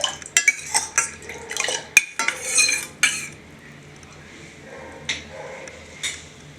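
A spoon stirs a cooled jaggery candy mixture, clinking and scraping against the vessel in quick, irregular bursts that thin out to occasional taps toward the end.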